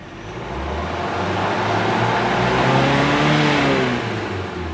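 A car engine, fault-ridden despite three overhauls, revs up loud and close after a check-engine code is cleared, swelling steadily and then easing back down, with no one speaking.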